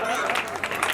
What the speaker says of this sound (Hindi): जोरदार ताली बजाएं एक बार।